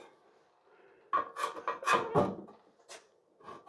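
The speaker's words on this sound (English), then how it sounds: "spread it on the joint like that at around about 30 to 45 degrees" A plasterer's trowel spreads plaster along a sheetrock joint in a series of short, close scraping strokes, each a brief rasping swipe, separated by quiet pauses.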